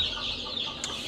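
Newly hatched chicks in a range area peep steadily in thin high chirps, a small group heard close and continuous with no talk.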